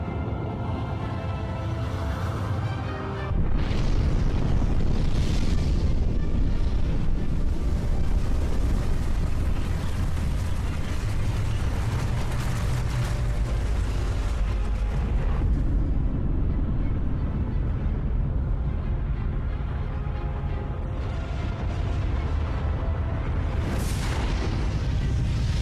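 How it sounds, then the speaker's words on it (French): An asteroid strikes a shallow sea in a huge impact explosion: a deep, loud rumbling boom swells in after a few seconds and roars on continuously, with rushing high bursts layered over the sustained low blast. "Elle entre dans l'atmosphère et s'écrase dans une mer peu profonde, à 20 fois la vitesse d'une balle de revolver."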